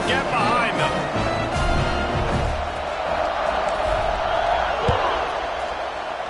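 Football stadium crowd just before kickoff, a steady, broad roar of many voices that holds evenly throughout, with a commentator talking over it.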